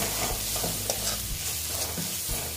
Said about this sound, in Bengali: দিয়ে আবার আমি একটু কষিয়ে নিচ্ছি